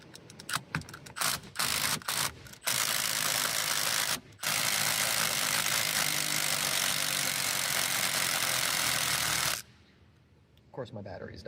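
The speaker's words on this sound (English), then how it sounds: "we're going to take our impact driver, which is a 21mm socket" Impact driver with a 21mm socket removing the steering wheel bolt on a Hyundai Ioniq 5 N: several short rattling bursts, then a long loud sustained hammering whir for about seven seconds before it stops.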